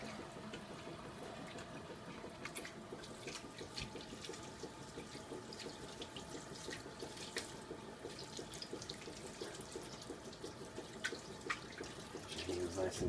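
Tap water runs steadily into a sink while hands are washed beneath it, a faint continuous splashing with small drips and clinks, picked up from a distance.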